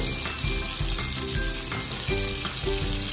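Cumin seeds and mixed garam masala sizzle in hot oil in a pan, a loud continuous crackling fry with some stirring clatter, no voices.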